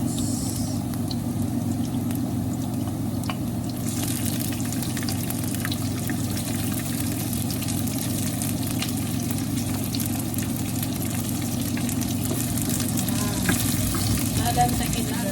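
Onion fries in a pan with canned Honey Boy pink salmon, giving off a steady, close sizzle with faint clinks and stirring sounds on top.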